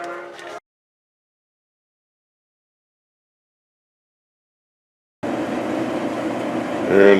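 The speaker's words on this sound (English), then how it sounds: "here's the dryer after the bearings have been lubricated. Notice how normal and quiet it now sounds." After a short sound and a stretch of silence, a Speed Queen coin-op clothes dryer with freshly lubricated bearings starts up with a steady, even mechanical hum at moderate volume.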